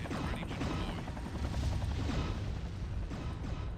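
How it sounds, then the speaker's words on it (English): Attack helicopters in the MechWarrior 3 video game: a continuous, dense whirring roar of rotors and gunfire-like bursts, loud and unbroken, with no talk. "Focus on the helicopters while they're a threat."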